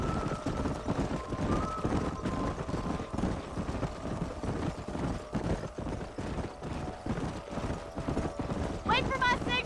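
Horses gallop in the Red Dead Redemption video game, rapid, steady hoofbeats pounding close and loud across the whole stretch, with a brief whinny near the end and people talking over it.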